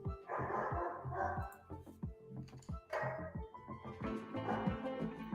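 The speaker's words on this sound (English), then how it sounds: "Look at that bark. Listen to that bark." Dog named Big Papa Bruce barking nearby in a series of sharp, repeated woofs spread across the moment, with some clicking keyboard typing mixed in underneath.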